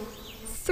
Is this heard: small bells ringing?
no